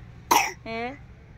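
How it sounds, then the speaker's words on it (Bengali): A child coughs twice indoors, a sharp close burst followed by a shorter, throatier hack, standing alone against faint room background. "কাশিটা না একদম ভালো হতে চাইতেছে না কেন?"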